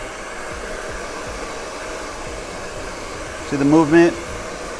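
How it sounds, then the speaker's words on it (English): Hair dryer blow-drying long, shaggy layered hair in a salon, a steady close whooshing roar that runs throughout as a person speaks briefly over it. "So now what we're gonna do is we're gonna blow dry it."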